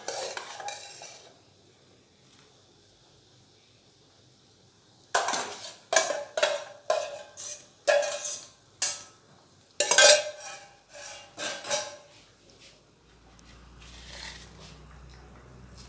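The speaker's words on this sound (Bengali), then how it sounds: "ডালটা ফুটে গেছে, এবার ওতে দিয়ে দেব এই যে ভেজে রাখা আলুগুলি" Fried potatoes are stirred into simmering moong dal in a pot, a series of sharp spoon scrapes and clinks against the metal pan coming in quick bursts after a quiet start, close by and with no talk.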